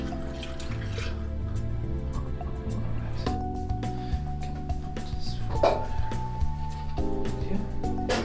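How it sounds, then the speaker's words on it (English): Water poured into a bottle while mixing black-and-white film developer chemicals. It is a steady, close trickle that runs for several seconds without a break, and no one speaks over it. "now I'm gonna put the rest of the water into the bottle"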